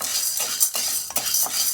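Urad dal and chana dal dry-roasting in a pan for sambar powder, stirred with a utensil that scrapes and rattles the dry lentils in a few quick close strokes.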